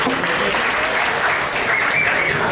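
A live stand-up comedy club audience at Carolines on Broadway bursts into loud, dense clapping that fills the room throughout.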